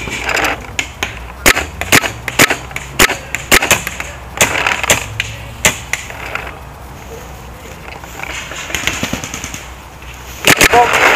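Paintball guns firing across an outdoor field, heard as bursts of sharp popping shots in quick irregular runs, some close and loud, others softer in the distance, with a few quieter gaps before a final flurry.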